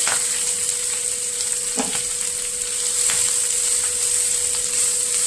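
Two finely chopped onions fry in a pan, a steady close sizzle and hiss with occasional soft scrapes and knocks of stirring, no voices.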